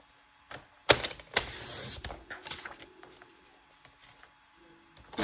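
Card stock is trimmed to size with a paper cutter for a camera-shaped slider card, giving a few sharp cutting swipes and clicks followed by quieter handling of the paper, close and without talk.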